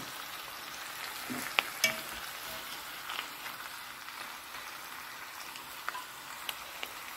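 Sauerkraut braised with smoked ham hock and fresh ribs fries softly in a pan, a steady low sizzle broken by a few sharp clacks of a utensil stirring, close and fairly quiet with no talking.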